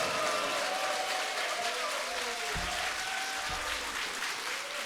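Church congregation applauding and cheering at a New Year revival service, a steady dense wash of clapping with raised voices and shouts mixed in throughout, plus a couple of low thumps near the middle.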